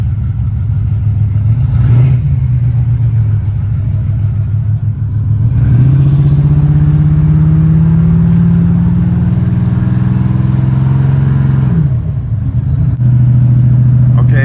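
A 1987 Buick Turbo T Grand National with a turbocharged engine drives along, the engine note rising and falling through loud, close revs and shifts heard from inside the car.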